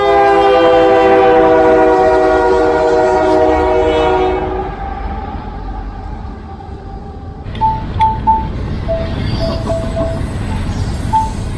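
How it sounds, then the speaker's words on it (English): A passing train in a small Iowa town sounds its horn in a long, loud multi-tone blast close by, then the horn cuts off and rumbling wheels and rail noise carry on, with a few short squeals near the end. "I think we get to see another train. This will be our third train."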